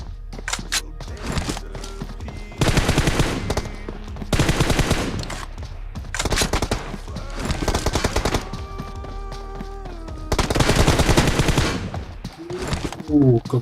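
Bursts of rapid automatic gunfire from a team deathmatch shooter game, loud, coming in several clustered volleys with short gaps between them.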